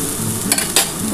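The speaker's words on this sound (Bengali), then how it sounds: "এবার আমি পেঁয়াজটা দিয়ে দিচ্ছি। পেঁয়াজটা আমি দিয়ে দিলাম। একটু পেঁয়াজটা হালকা করে ভাজা হলে" Onion sizzling and frying in a pan, with a steady hiss broken by two quick scraping stirs, heard close and without talk.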